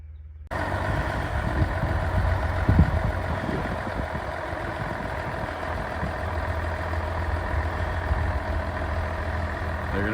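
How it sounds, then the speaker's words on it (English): A road grader's diesel engine starts up loud and close after a moment of quiet, then settles into a steady heavy idle with a low rumble as the machine arrives at a château grounds. "They have brought a grader that is going to help us, I think."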